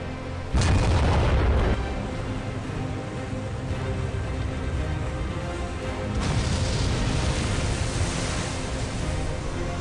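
Heavy naval gunfire from the WWII battle between the battleships HMS Hood and Bismarck: a sharp loud boom, then a sustained roaring rumble that swells again later, with no voices.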